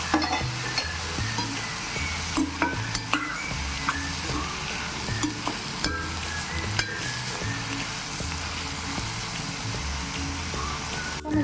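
Onions with a pinch of salt fry in a pan for a paneer curry, giving a steady, close sizzle throughout with scattered clicks and scrapes of stirring and no voices.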